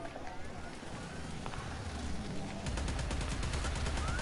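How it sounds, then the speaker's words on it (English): Rapid gunfire from the Warframe shooter game bursts in close and dense, with a louder stretch of shots in the second half under a steady roar of game noise. "Who is shooting me?"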